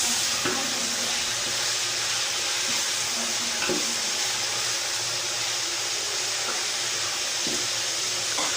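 Chicken pieces fry in a pot for biryani, giving a steady broadband sizzle with occasional stirring clatters, moderately loud and close, with no talking.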